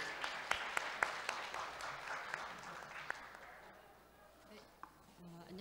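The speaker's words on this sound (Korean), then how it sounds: "여러분들 큰 박수 부탁드립니다." A conference audience at an annual academic meeting of a Korean health research institute applauds in a hall, with brisk clapping that thins and fades after about four seconds, while a few voices murmur underneath.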